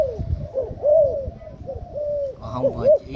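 A spotted dove offered for sale coos repeatedly in soft, rounded, rising-and-falling phrases, close and clear, with faint background noise and a few overlapping calls near the end.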